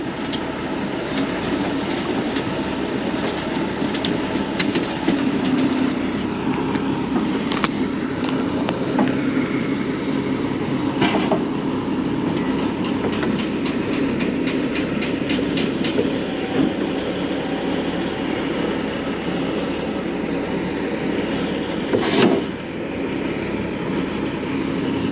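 A cable shovel driving along, a steady continuous mechanical rumble with metallic clanks and rattles throughout, fairly close and unbroken, with a sharper bang near the end.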